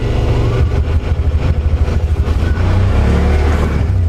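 Yamaha Wolverine X4 side-by-side in four-wheel drive with diff lock engaged, its engine rumbling steadily and close as it climbs up and over a log, pulling harder in the middle before settling back to a steady drone.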